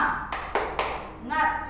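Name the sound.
rhythmic clapping chant 'tepuk semangat'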